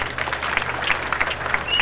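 Guests applaud during a civil wedding ceremony after the couple's vows, a lively patter of many hands clapping at close range.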